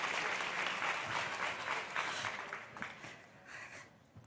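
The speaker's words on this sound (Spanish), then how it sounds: "Os vamos a dar otro aplauso porque esto ha sido increíble" An audience applauds with dense, steady clapping that gradually thins and softens toward the end.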